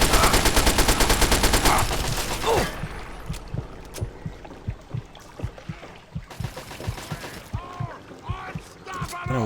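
Assault rifle gunfire in the video game Fallout 3, sharp shots crackling in a fast rattling burst at first, then scattered single and clustered reports continuing near and loud.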